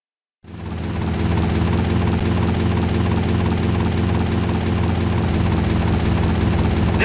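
A helicopter from the video game GTA Vice City Stories kicks in suddenly, then a loud, steady rotor thrum and engine drone holds on without a break, close up and dominant.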